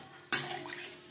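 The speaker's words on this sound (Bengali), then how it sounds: "মশলা বেশ ভালো করে কষিয়ে নেওয়ার পর দিয়ে দেবো জল।" Water splashing into a pan of spiced tilapia fish curry with onion and tomato, a sudden close pour that settles into a soft, steady wash.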